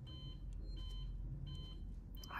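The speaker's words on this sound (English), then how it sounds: "Why is it beeping?" Faint electronic beeps repeat in short regular bursts over a low ambient hum during play of the sci-fi horror video game Alien: Isolation.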